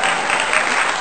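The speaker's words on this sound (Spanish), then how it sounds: "¡Bravo! ¡Aplausos!" A brief burst of dense, loud applause, many hands clapping together steadily with no voices standing out.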